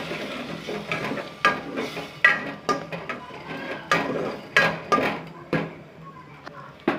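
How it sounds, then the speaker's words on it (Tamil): Kadalai kuzhambu, a chickpea curry, is stirred in a pot over a low flame: a steady run of spoon scrapes and light clinks against the metal, with a soft sizzle underneath. "கொஞ்சம் லோ ஃப்ளேம்லே ஃப்ரை ஆகட்டும். நல்லா கலந்து விட்டுக்கோங்க."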